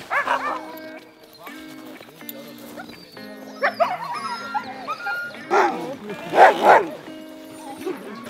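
Many sled dogs bark, yip and whine excitedly together before a dog-sledding run in Lapland, Sweden, a chorus of overlapping yelps that swells louder toward the end, with a voice speaking among them.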